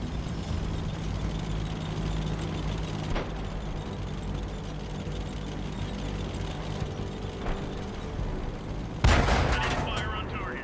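Centurion Mk. I tank gun in World of Tanks fires one sharp, loud blast near the end, cutting through a steady engine rumble and battle noise, with a smaller thump earlier.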